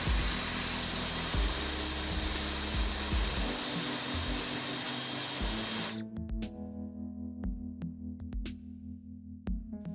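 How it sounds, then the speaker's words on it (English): A hairdryer blows steadily and loudly while warming the charging-port adhesive of an iPhone 16 Pro Max, then shuts off after about six seconds, leaving faint clicks and handling taps. "Warm it up with a hairdryer before removing it safely."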